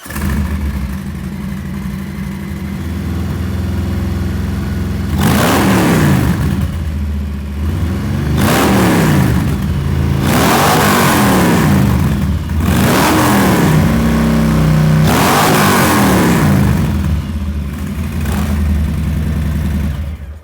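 A Harley-Davidson Milwaukee Eight Softail engine with a new Rinehart 2-into-1 exhaust idles with a deep throaty rumble, then revs loudly four times, each rise and fall throbbing close by.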